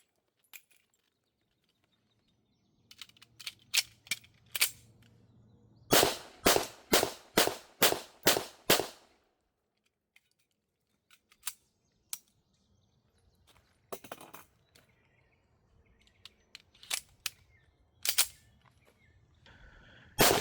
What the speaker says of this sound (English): It shoots very smoothly, except for one little hang up there, which I have to blame on the ammo.